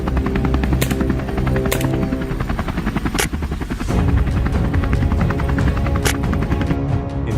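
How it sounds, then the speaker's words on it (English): A helicopter thrums overhead with a loud, continuous rotor chop and engine whine, holding steady throughout with no other sounds breaking through. "Helicopter noise can disturb wildlife and affect non-target animals."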